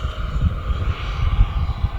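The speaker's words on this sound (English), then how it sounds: "this jet's amazing" An FMS 80mm Sabre EDF model jet flies overhead with a steady, loud ducted-fan whine and a rumbling roar that holds continuously without pause.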